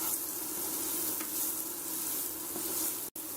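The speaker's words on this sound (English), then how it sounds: "Now we are frying these sprouts." Green pea sprouts fry in a pan with a steady, soft sizzle that continues evenly throughout, with a faint stirring scrape partway through and a brief cut-out near the end.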